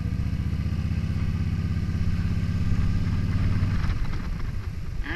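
A motorcycle engine runs while riding with the clutch pulled in, giving a loud steady mechanical drone that shifts into a looser rattling sound toward the end.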